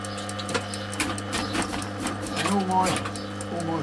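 A sewing machine runs steadily while double-stitching the ends of a gundog accessory, its rapid mechanical whir and ticking continuous throughout, with a person talking over it nearby.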